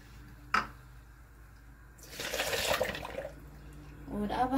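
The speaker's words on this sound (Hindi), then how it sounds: "और इसमें डालेंगे ठंडा पानी एक कप।" One cup of cold water is poured into a bowl of yogurt and ice in a kitchen, making a short, splashy rush after a sharp knock, followed by someone speaking.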